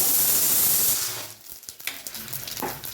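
Mustard seeds hit hot oil in a pan while making rasam: a loud hiss and sizzle at first, then quieter crackling and sputtering pops.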